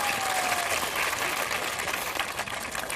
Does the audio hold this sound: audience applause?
yes